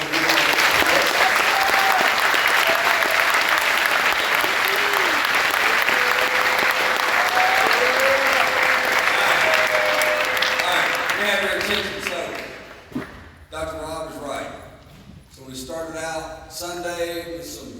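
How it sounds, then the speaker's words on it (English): Loud, sustained applause from a large audience at a Boys State event fills the room for about twelve seconds, then fades as a voice begins speaking over the last claps. "let's give our chairman, Colonel Jim Reed, a big round of applause."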